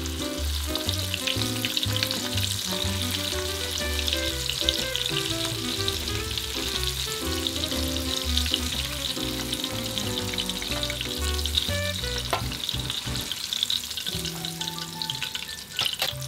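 Chicken karaage deep-frying in oil bubbles in a dense, even sizzle with fine popping all the way through, close and loud, with no voices.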